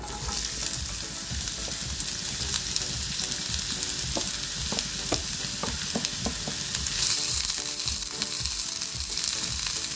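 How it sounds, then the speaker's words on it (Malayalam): Onions frying in two tablespoons of hot coconut oil in a pan, a loud, dense, continuous sizzle with a run of quick rhythmic spatula taps in the middle, close up and with no speech. "2 ടേബിൾ സ്പൂൺ വെളിച്ചെണ്ണ ഒഴിച്ചു കൊടുത്തിട്ടുണ്ട്. ഇതിലേക്ക് നമുക്ക് സവാള ഇട്ട് കൊടുക്കാം."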